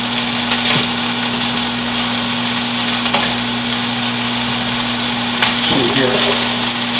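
Beef loaf fries in a pan with mushrooms under a loud, steady sizzle, with an electrical hum running beneath it and occasional clatters as it is moved in the pan.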